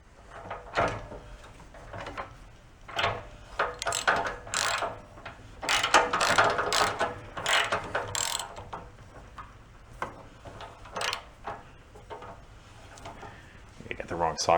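A socket ratchet wrench works on the engine of a snowblower during valve adjustment, giving repeated close clicking ratchet bursts and metallic clinks in an irregular rhythm while someone talks.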